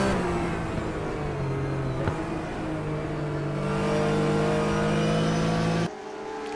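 Classic Porsche Cup race car engines in a racing sim, a steady droning whine that rises gradually in pitch, with several tones layered together, and then drops off abruptly near the end, loud and continuous with no talk.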